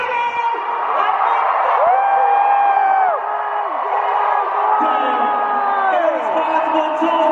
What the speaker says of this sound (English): Another sold out crowd